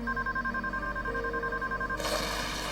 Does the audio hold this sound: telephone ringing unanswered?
yes